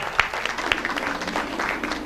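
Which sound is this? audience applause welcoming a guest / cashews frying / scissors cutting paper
audience applause welcoming a guest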